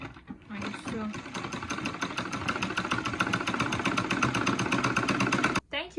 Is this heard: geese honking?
no